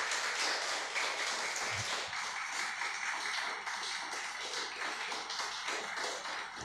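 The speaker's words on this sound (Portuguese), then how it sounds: "Vamos aplaudir Ele em nome de Jesus." A church congregation applauding, a dense continuous patter of many hands clapping that fills the room evenly and loudly, without any voices over it.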